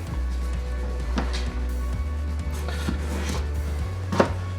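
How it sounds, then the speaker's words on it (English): A very sharp new knife chops vegetables on a cutting board while making cottage pie, with a series of separate, fairly soft knocks spread unevenly over a steady low background hum. "So cut it in half and then cut it long ways, and then I just cut them like that"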